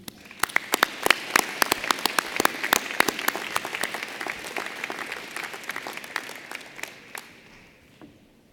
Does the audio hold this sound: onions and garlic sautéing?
no